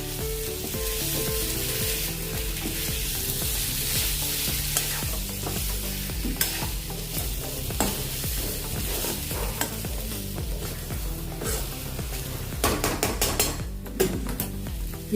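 Potatoes stirred into roasted spices in a kadai for a Pahadi aloo sabzi: a steady close sizzle with repeated scraping stirs and clinks of a spoon against the pan, under continuous background music with no talking.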